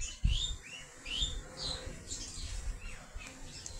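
Soft, high squeaky peeps from a pigeon chick repeat in quick rising chirps, close and fairly faint, with light rustling.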